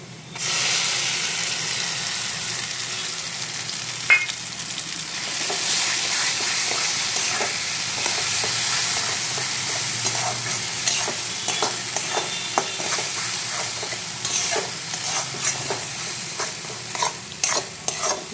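Ground pumpkin-leaf paste stirred and fried with browned onion in a kadai: a continuous close sizzle broken by repeated scraping strokes of a spoon against the pan, with no talking.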